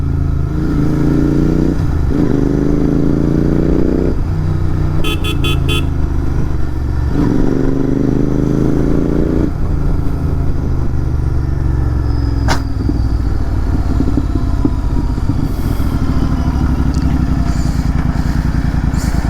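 A Royal Enfield Continental GT650 in Slipstream Blue rides close and loud, its twin-cylinder engine rising and falling through several gear changes and rev climbs, with a brief clatter partway through and steady road rumble throughout.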